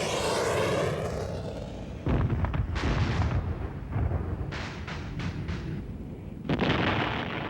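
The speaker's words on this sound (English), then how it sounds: "The fighter bomber, called up by radio in support of the troops on the ground and dropping its napalm just yards away from its own GIs." Fighter bomber dropping napalm in support of ground troops, with loud heavy explosions: a sustained roaring blast at first, then a series of sharp booming detonations and rumbling fire bursts, close and powerful.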